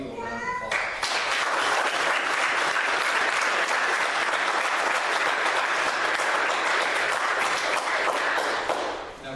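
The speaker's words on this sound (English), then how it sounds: "Let's give this new eagle a round of applause." Dense, loud applause from the gathered audience at an Eagle Scout ceremony, beginning abruptly and holding steady for several seconds before tapering, with a few voices, including a child's, under the clapping.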